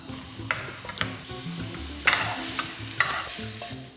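Food sizzles and fries in a pan while a utensil stirs and scrapes, giving soft irregular clicks over a steady hiss, close and fairly quiet.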